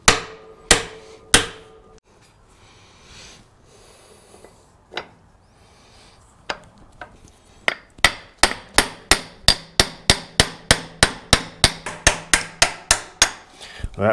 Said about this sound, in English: Probably shouldn't hammer it on there, huh?